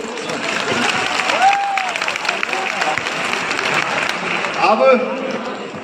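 Crowd applause inside Talkatora Stadium in Delhi during a political speech, a sustained rumble of many hands clapping with voices and shouts mixed in, swelling slightly near the end.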